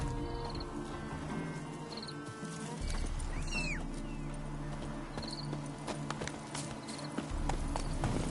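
Horse hooves clip-clop steadily in The Witcher 3, a moderately close rhythmic trot with brief whinny-like calls and ambient background sounds, no talking.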